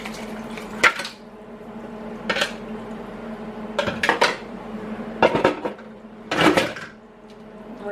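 A spoon stirs goulash in a metal pot, giving a series of sharp clanks and scrapes against the pot's sides at an irregular pace, close and fairly loud, with no voices.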